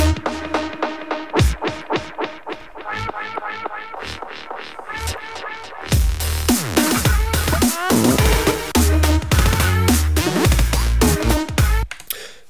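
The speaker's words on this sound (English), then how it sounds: "The last 2 effects, Fade to Grey and Beat Masher, are not affected by the cutoff." DJ software effects Fade to Grey and Beat Masher process a playing track, with a clean electronic beat chopping and stuttering in loud rhythmic bursts, then a fuller, denser stretch of mashed, repeating beats.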